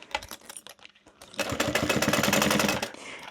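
A sewing machine stitching around the edges of fabric that could fray, a few short taps and pauses before a steady, close, rapid needle rattle that runs for about a second and a half.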